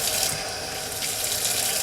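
Running tap water splattering steadily and close by into a tablespoon, a continuous bright rush with no pauses.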